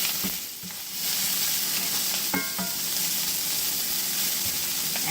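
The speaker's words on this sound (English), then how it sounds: "you can continue to stir fry this a little longer before you add your rice" Vegetables for ham fried rice stir-fried in a pan, a steady loud sizzle and hiss with occasional scraping stirs and clinks, running throughout without talk.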